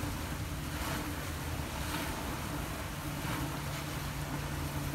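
A Catalina 470 sailboat rushing through the water at about eight knots on Buzzards Bay, a loud continuous wash of hull spray and waves mixed with wind buffeting the microphone, steady throughout with no talking.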